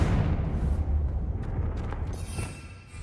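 Confringo blasting spell detonating in Hogwarts Legacy, a deep rumbling boom that rolls on and fades over a few seconds, with faint crackling debris afterward.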